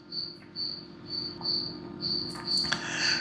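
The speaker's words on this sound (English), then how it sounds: "The crickets, I don't know if you guys can hear them right now." Crickets kept in a covered tub chirp in regular high-pitched pulses, a close and fairly faint repeating trill over a soft background hum.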